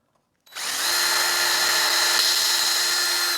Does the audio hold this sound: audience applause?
no